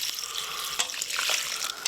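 Grey water poured from a container into a small hole in the ground at a wilderness campsite, a soft continuous trickle and splash with a few brief gurgling bursts, faint and close by.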